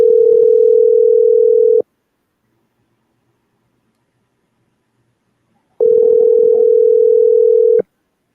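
A telephone ringback tone on an unanswered call sounds twice: a loud, steady electronic tone of almost two seconds, a four-second silence, then a second identical ring. No one talks.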